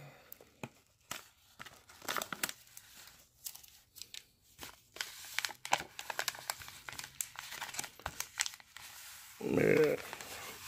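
A bubble mailer envelope with a card inside being sealed, with scattered crinkling and rustling of the plastic and adhesive strip, then a louder rough crunch near the end; a voice talks throughout.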